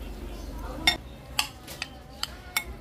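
Seasoned pork is being stirred with baking soda in a bowl: several separate utensil clinks and scrapes against the bowl ring out at uneven intervals over low background noise.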